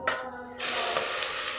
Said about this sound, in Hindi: मीडियम टू लो आंच पर प्याज को चलाते हुए फ्राई कर लें।